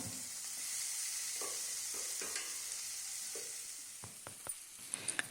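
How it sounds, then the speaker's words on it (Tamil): Cabbage lentil kootu being mixed into sautéed onions and green chillies in a pan: quiet, close scraping and soft stirring over a faint hiss, with a few light clinks near the end. "நல்லா வெங்காயத்து கூட கலந்து விட்டுக்கலாம்"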